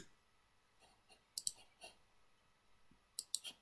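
Keys are pressed on a computer keyboard while working in Excel 2016, a few sharp close clicks that come in two small bursts over a faint quiet background.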